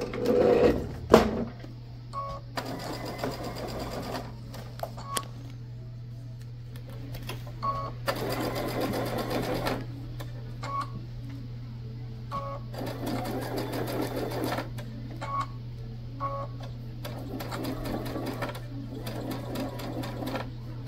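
A sewing machine top stitches a bag in repeated bursts of rapid whirring, each run separated by short pauses and light clicks, over a steady low hum.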